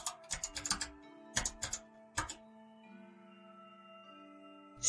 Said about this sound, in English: could hear her typing on a keyboard